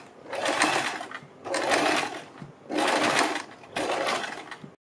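A sewing machine stitches fabric strips for a kurti or suit neckline in four bursts of fast, buzzing running with short pauses between, close and loud, without speech.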